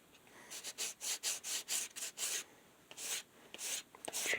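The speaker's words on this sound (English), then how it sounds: "these are dry and ready to be sanded back. Getting a lot of mileage out of one piece of" Dry workpiece being sanded back by hand with a single well-used piece of 80 grit sandpaper, a rhythmic run of close, rasping strokes, a brief pause, then several more strokes.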